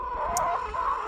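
Pasture-raised hens on an Australian egg farm give a brief, close cluck over a low, steady farmyard background.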